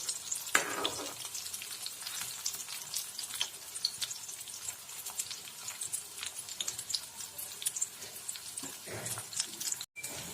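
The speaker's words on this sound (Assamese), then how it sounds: "জুইটো কম জুইত ভাজিব আপোনালোকে। ময়ো কম জুইয়ে দিছোঁ।" Maggi manchurian frying in oil on a low flame, a continuous crackling sizzle with scattered pops and a few stirring knocks, close but fairly quiet throughout, no voices.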